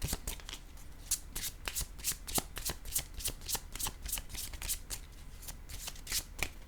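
Tarot cards are handled and laid down on a table during a reading: a steady run of crisp, close card flicks and slaps, quiet and alone.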